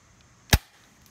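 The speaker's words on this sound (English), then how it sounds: "you can actually hear a high quality ding from this" A single sharp shot from a cheap airsoft pistol striking a metal target, one short crisp ping standing alone against quiet outdoor background.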